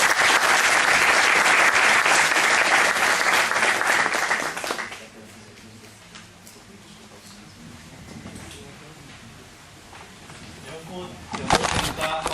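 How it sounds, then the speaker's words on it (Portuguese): An audience claps loudly and densely to welcome a professor at a liturgy lecture. After about five seconds the applause drops away into quieter room murmur and scattered sounds, and a brief burst of clapping returns near the end. "A salva de palmas, professor."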